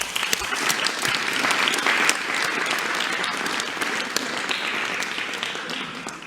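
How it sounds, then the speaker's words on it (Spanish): A crowd at a morning press conference in Mexico claps and applauds steadily, a dense, sustained patter of many hands with no talking over it. "un aplauso para las maestras y los maestros"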